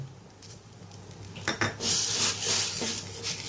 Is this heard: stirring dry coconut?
yes